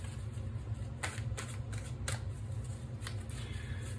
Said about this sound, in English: so I'm going to shuffle this for a little bit longer.